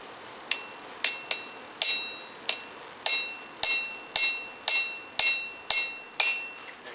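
A hammer strikes a chisel on hot metal while forging a fire rake in a blacksmith's shop, a steady series of about a dozen bright ringing blows roughly every half second, close and clear.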